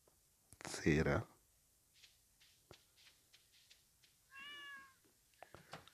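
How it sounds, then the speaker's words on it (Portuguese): A cat in the farming game Stardew Valley gives one short, fairly quiet meow, set among a louder burst of game noise earlier and scattered small clicks and taps. "Aí vem um gato e fala não."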